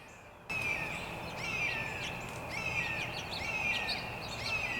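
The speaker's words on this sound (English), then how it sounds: "Can you hear this bird?" Repeated harsh bird calls, several in a row, ring out over a steady broadband outdoor hiss; the calls are moderately loud and fairly close.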